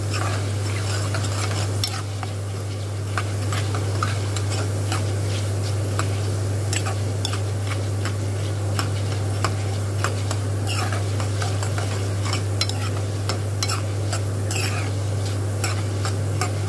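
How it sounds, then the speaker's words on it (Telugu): Coriander seeds dry-roast in a pan, stirred constantly with rapid close scraping and rattling over a loud, steady low hum. "దీంట్లోకి ఇప్పుడు ధనియాలు కొంచెం కూడా లైట్గా వేయించుకోండి ఫ్రెండ్స్"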